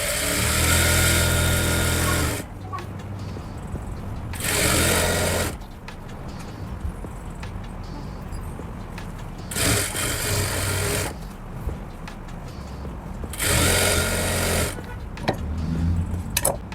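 Domestic sewing machine stitching a salwar belt in short bursts, three or four loud whirring runs of a couple of seconds each separated by quieter pauses with faint handling sounds.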